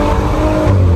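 A 2020 Maserati Levante engine on a test drive, a loud, throaty roar with a low rumble that rises near the end, heard from inside the cabin with no talk over it.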